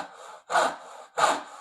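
A crosscut handsaw cuts through wood in two rasping strokes, close and distinct, with short pauses between them.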